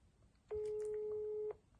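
A single steady electronic tone on a phone call sounds as an unanswered line rings, lasting about a second against faint background noise, with no talking.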